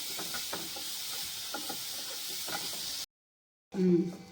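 Grated carrots sautéing in hot ghee in a pan, giving a steady close hiss and sizzle with a few soft stirring scrapes, then a brief silence and a short louder burst of sound.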